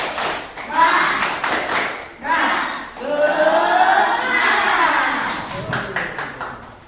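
A group claps together in a quick rhythmic pattern for a classroom spirit clap, with children's voices chanting and talking over the claps, close and loud.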